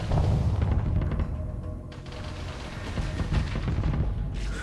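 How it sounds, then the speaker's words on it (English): Heavy machine gun in the Starsector space combat game fires a dense, continuous stream of booming, thudding rounds, loud and steady throughout with no talking. "that heavy machine gun's weird"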